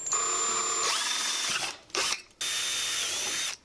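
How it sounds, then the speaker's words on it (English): A power drill bores through the ribs of a canopy stanchion to mount a homebrew 20-meter vertical antenna base, in two loud, steady whining bursts with a short pause and a brief tool noise between them, with no talking. "I'm going to drill holes through opposing strengthening ribs here for some hardware."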